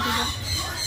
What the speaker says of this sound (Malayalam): അയ്യോ ഈ കോഴി എന്താ ഇവിടെ